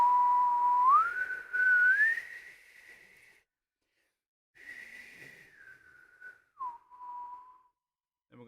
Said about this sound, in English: and then you're going to whistle. It's going to be a very large aperture compared to regular whistling.